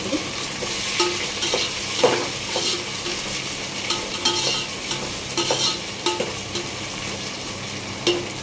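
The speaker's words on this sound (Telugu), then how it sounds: "ఆలుగడ్డ, క్యారెట్ వేస్తున్నాను, కలుపుకుంటున్నాను." Potatoes and carrots being stirred in a frying pan, with a steady sizzle of frying and irregular scraping strokes of the spoon against the pan, close and alone with no talking.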